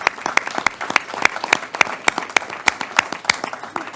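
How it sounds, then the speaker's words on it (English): A small audience at a school board of education meeting claps in a round of applause, with distinct individual claps in an uneven, fairly close rhythm. "I'd like to give them a round of applause for that work and that designation."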